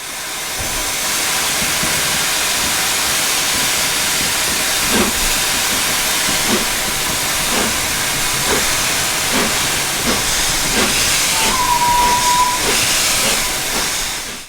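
Steady, loud steam hissing from an LNER A1/1 steam locomotive in Train Simulator, a constant broad rush with faint rhythmic chuffs, plus a brief thin whistle-like tone near the end.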